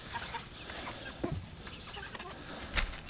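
A backyard flock of chickens clucks softly at a distance, scattered faint clucks over an outdoor hush with no talking.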